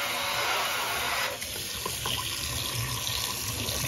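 Water runs steadily from the extension pull-down hose of a Kohler Kaori kitchen faucet into a sink, a continuous loud hiss that shifts slightly in texture partway through as the spray changes.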